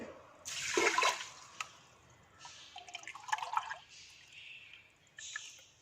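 Water poured from a glass onto rice in a pressure cooker for ghee rice, coming as a few short splashing, trickling bursts with quiet pauses between, fairly close and soft.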